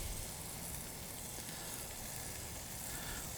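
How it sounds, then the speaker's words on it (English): Hickory smoked bacon on a grill over indirect heat gives off a steady, even sizzle and hiss that holds without a pause, fairly close, with no voices. "Going on with some hickory smoked bacon"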